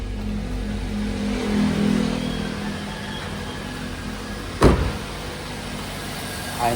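A Toyota Altis that has lost compression in cylinders 3 and 4 idles after a cold start, a steady, fairly loud engine drone with one brief knock or thump partway through.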